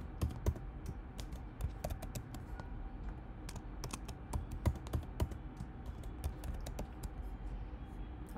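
Fingers tapping a computer keyboard while entering a password, a quick irregular run of light clicking keystrokes, close and clear with no voices.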